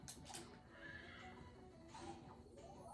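A horse whinnies in the video game Miitopia with a rising, shaky neigh over soft clip-clop hooves. Game music plays steadily underneath.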